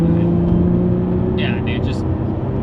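Lotus Evora GT engine, a loud, steady low drone with a strong, even hum heard from inside the car, with a few faint higher sounds over it.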